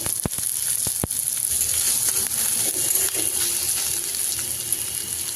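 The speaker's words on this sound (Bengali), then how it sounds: "আমি চেরা কাঁচা লঙ্কাটা দিয়ে দিব, বেটে রাখা আদা দিয়ে দিব" Slit green chillies and ginger paste hitting browned onions in hot oil set off a loud, steady sizzle that fills the whole stretch, with a couple of sharp clinks near the start.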